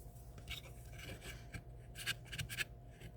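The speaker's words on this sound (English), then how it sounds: "I'm looking for my scraper." A hand scraper rasps over an old, heat-softened finish on a thrifted piece being upcycled, giving short scratchy strokes in close, uneven bursts with no talking.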